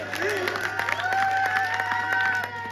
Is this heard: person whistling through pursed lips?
no